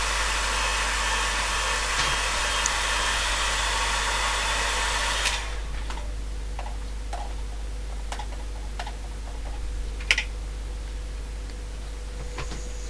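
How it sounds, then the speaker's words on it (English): A hairdryer roars steadily at close range, drying watercolour paint on paper, then cuts off abruptly partway through, leaving a quiet room with faint scattered ticks and clicks. "just drying it quickly with the hairdryer"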